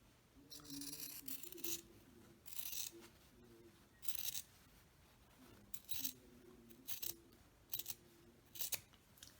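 Scissors trim fabric on a tote bag, with a series of crisp snips in short bursts, some doubled, close up and alone against a quiet background.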